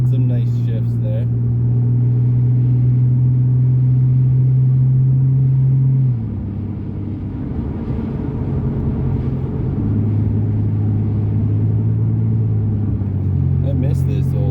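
A 2003 Ford Ranger with a swapped 4.0L SOHC V6 pulls under medium throttle, its steady close engine drone dropping at about six seconds as it shifts, then climbing and shifting again, with brief speech at the start and end.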